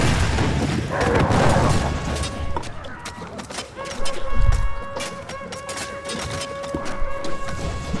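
Bombs going off in Spore: a loud muffled boom early on and another deep thud midway, among game tones and chimes, with a person talking.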